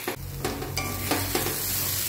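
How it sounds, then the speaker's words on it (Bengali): Leafy greens stir-fried gently in a wok, a steady close sizzle with soft scraping stirs recurring every half second or so, no voices. "কড়াইয়ের শাকটা পুড়ে গেলে খেতে ভালো লাগবে না, তাই হালকা আছে শাকটা আস্তে আস্তে ভেজে নেব"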